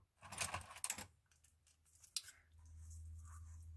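Scissors snip through a ribbon in two or three quick close cuts, followed by a faint rustle and a low steady hum.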